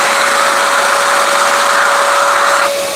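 A shop vacuum runs loud and steady, clearing wood chips out of freshly drilled holes in a workshop, its whining drone holding constant before easing slightly at the end.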